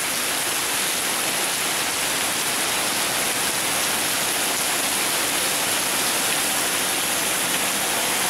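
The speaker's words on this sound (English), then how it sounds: "I don't know if this will really be able to tell how hard it's raining." Heavy rain pouring down outside at night near a street light, a dense, loud, unbroken hiss of falling water that stays constant throughout with no voices.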